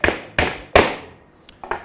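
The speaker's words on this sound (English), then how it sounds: "you can hammer it till it's flush" A hammer drives a nail flush into stacked wooden boards with three firm, ringing strikes close by, then a few lighter taps trailing off.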